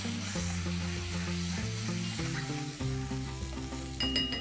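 Cumin, coriander seed and pepper powders sizzle in a pan for dhaba-style paneer masala as they are stirred. A steady frying hiss sits under a close, continuous scraping of the stirring, with no voices.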